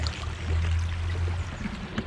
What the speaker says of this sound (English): water is still coming out.